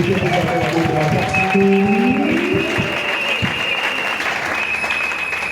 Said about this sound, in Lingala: Si on peut acclamer pour la voix du Seigneur